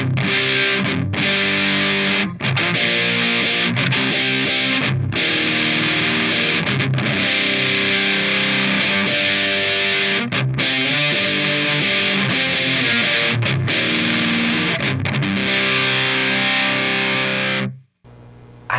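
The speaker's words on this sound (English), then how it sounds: "I can't ever see myself using this type of distortion." Electric guitar played through a ProCo Roadkrill distortion pedal, heavily fuzzed and loud, with sustained saturated chords and brief gaps between strums before cutting out near the end.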